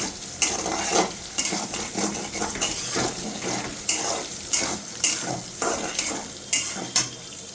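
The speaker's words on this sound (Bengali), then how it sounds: "এখন আমি এটাকে ভেজে নিব" Food fries on a stovetop pan with a strong sizzle, overlaid by rhythmic scraping stir strokes roughly every half second, loud and close.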